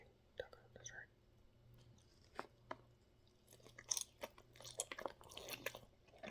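Someone bites into and chews a refried bean taco up close, with soft crunches and wet chewing sounds, crisper toward the end. Quiet, whispery mouth noises accompany it.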